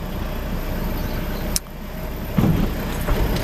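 A car drives along with a steady engine and road rumble, its cabin noise constant and loud, broken by a brief dip and a couple of soft knocks.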